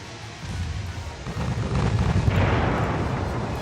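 Naval gun batteries fire in the warship game Ultimate Admiral Dreadnoughts, producing a steady, heavy low rumble of cannon blasts that swells louder partway through and holds as a dense, continuous roar.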